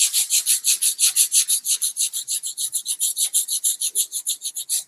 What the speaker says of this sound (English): you could wrap your sandpaper on it and get into tiny areas